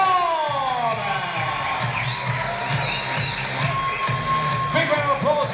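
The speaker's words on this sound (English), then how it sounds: "Big round of applause there to Luke Dowsett as well." A boxing crowd cheers and applauds after a decision is announced, loud whoops and shouts over sustained clapping, with an announcer's amplified voice speaking over the noise.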